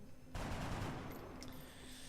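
A grenade explodes in XCOM Long War, one sudden loud blast about a third of a second in, then a rumbling decay with faint debris crackle, with no voices.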